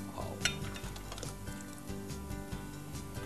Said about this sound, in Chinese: 稍微推一推，搅一搅。